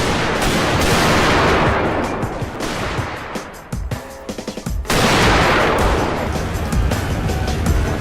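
Rifle volleys and Gatling gun fire in a Total War battle set in 1879, dense rattling gunfire and booms that ease to a brief lull then surge back loud.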